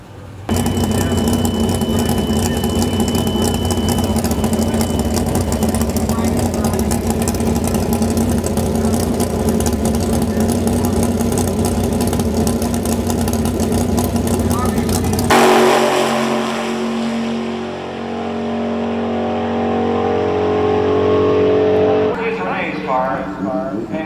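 A drag race car at the BPG Nationals, twelve years with its owner, idles loud and steady with a heavy rumble, then the note shifts and drops around the midpoint; a voice talks over the engine.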